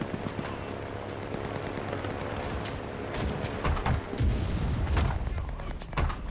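Gunfire in the WWII shooter game Enlisted: scattered shots and bursts crack over a continuous rumble of battle, with heavier impacts thickening toward the end, while someone talks underneath.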